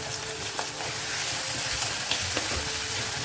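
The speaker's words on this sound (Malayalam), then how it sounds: "ഉള്ളിയൊക്കെ വഴന്നിട്ടുണ്ട്." Onions saute in a pan for a Kerala fish curry, giving a loud, continuous frying hiss up close with a few faint stirring clicks and no speech.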